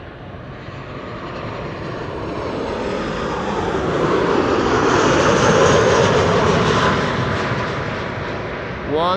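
SunExpress Boeing 737-900 airliner, 17 years old, arriving at Amsterdam Schiphol, its jet engines building into a loud, broad roar that peaks midway and then slowly fades.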